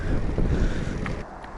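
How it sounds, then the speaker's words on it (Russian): Strong wind buffets the microphone outdoors on a grassy roadside where a touring cyclist has stopped, a dense low roar and rumble with gusty swells and no speech. "Вот такой сегодня ветер."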